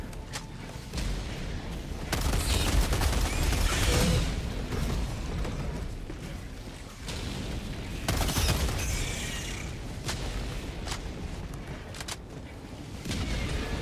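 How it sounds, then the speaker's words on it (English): Helldivers 2 artillery barrage shells land in a rolling series of heavy explosions and crackling bursts, close and loud, on an extreme-difficulty solo mission. Blasts keep coming at uneven intervals over a constant rumbling battlefield din. "This is very dangerous, staying within my own artillery coverage."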